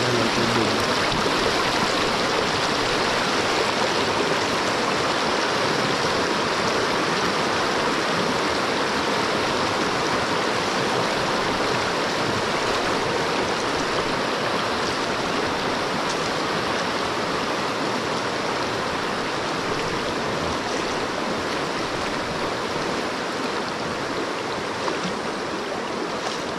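A stream flowing through a farm area in the countryside, giving a steady, loud broadband rush of running water that stays even and unbroken throughout, with no voices.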